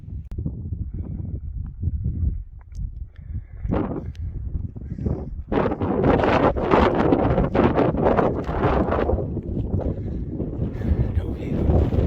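Strong wind blows near a mountain summit in Maine, buffeting the microphone in rough gusts. The blasts grow louder and more sustained midway through, then ease slightly toward the end.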